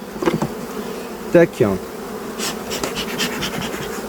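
A dense, steady buzz of many honeybees at a hive as a beekeeper moves them to a new hive fills the scene, with a few sharp tapping knocks partway through and a brief spoken word.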